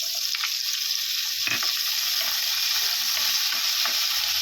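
Chopped tomatoes go into a hot frying pan, setting off a loud, steady sizzle with a sharp clatter near the start and a few light clicks scattered through.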